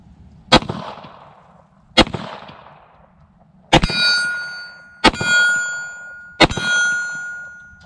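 Five sharp gunshots from a 9mm pistol at an outdoor range, spaced a second or so apart; the last three each ring out with a bright sustained metallic clang from a steel silhouette target, loud and close with no talking.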